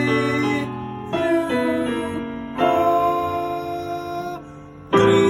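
Piano chords sound in sustained 3-6 passing chord voicings, shifting through a few changes with each new chord struck firmly and left ringing.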